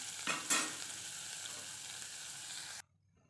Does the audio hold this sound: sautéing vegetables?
yes